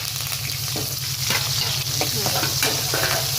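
Garlic, onions and curry leaves fry in hot oil as the tempering for a sardine fish curry, a steady loud sizzle with crackling bursts and a low hum underneath throughout.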